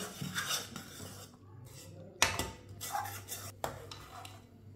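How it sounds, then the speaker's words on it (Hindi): A spoon stirs a thickened sweet mixture in a pot after the stove is switched off, making intermittent metallic scrapes and clinks against the pot's sides, close and fairly quiet, with no talking. "इसी तरह थोड़ा सा ना चम्मच चला लेंगे।"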